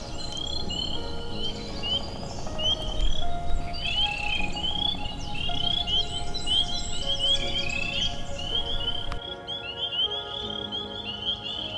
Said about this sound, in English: Kind of listen to the frogs, some of the other nature sounds.